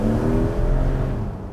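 Porsche 911 Targa GTS pulling hard in Sport Plus mode with overboost engaged, a loud, close, steady engine drone that holds strong throughout before easing slightly at the end.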